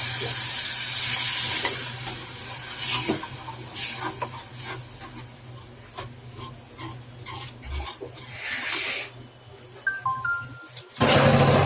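Steady frying sizzle as mixer-rinse water is poured into green peas gravy and a spoon scrapes and stirs in a pan, loud and close throughout, ending in a brief clatter.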